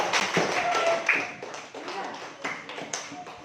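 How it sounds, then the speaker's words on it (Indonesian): Scattered clapping from a small group in a fourth-grade classroom, uneven and a little sparse, mixed with faint chatter and room noise. "Kita tepuk tangan dulu"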